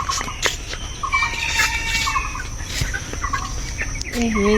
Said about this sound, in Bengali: যাই একটু ফার্মের দিকে মুরগিগুলো দেখে আসি